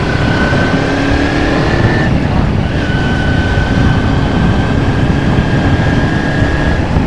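A carbureted Kawasaki Ninja 250 motorcycle riding through a town area, a steady loud engine drone with a rising whine, heard close from the rider's position with wind noise.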